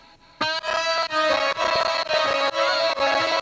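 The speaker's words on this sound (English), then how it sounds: "And this lead, the synth lead, gets a little bit of a slide here." A bright electronic synth lead glides upward into a sustained note at the start, then carries on over a steady pulsing beat with rhythmic accents, loud and with no talk.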